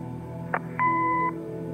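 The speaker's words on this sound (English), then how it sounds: "Leave a message after the beep." An answering machine in the Kathy Rain detective game gives a short blip and then a single steady electronic tone of about half a second, clear over a low background hum.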